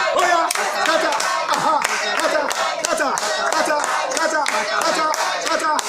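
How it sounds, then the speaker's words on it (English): Steady, rapid hand clapping from a praying congregation at a deliverance service, loud and rhythmic throughout, with voices calling out faintly beneath. "I shall clap my hand"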